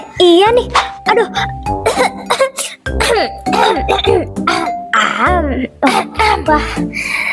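Repeated coughing and throat clearing, loud and close, mixed in with voices.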